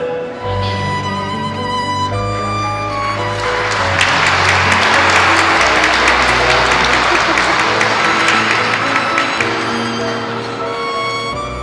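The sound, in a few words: congregation applauding a priest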